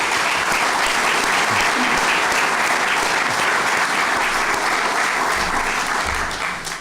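Sustained, loud applause from an audience at a university athletics press conference introducing a new director of athletics, steady dense clapping for several seconds that tapers slightly at the end.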